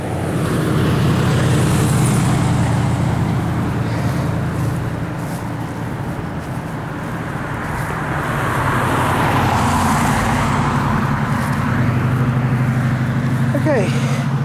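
Cars and trucks passing on a potholed road, a continuous roar of traffic that swells as vehicles approach and go by at close range, with a brief dip in the middle and a voice faintly audible.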